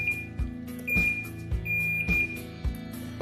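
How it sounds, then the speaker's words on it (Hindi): A thin, high electronic beep sounds steadily in long stretches from control room equipment after its program button is pressed, over rhythmic low thumping machine pulses about twice a second. "हमने प्रोग्राम बटन दबाया, लंबी बीप आ गई"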